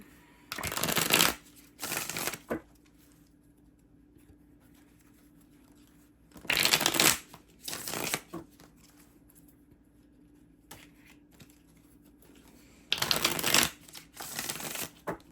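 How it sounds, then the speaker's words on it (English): Tarot cards being shuffled in three separate bursts, each a quick riffle of dense crisp flutters, with quiet pauses between; close and clear, no talking. "Couple more shuffles here."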